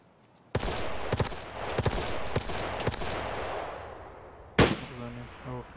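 Gunfire in the Escape from Tarkov video game: a quiet start, then sharp shots land singly and in quick double and triple bursts, ending with one loud close blast, with faint voice-like sounds at the end.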